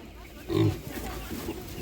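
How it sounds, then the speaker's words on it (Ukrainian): Piglets grunt and oink close by at a market, with a louder squeal-like burst in the middle, over a busy background. "Такі свинки, підрощення гарні."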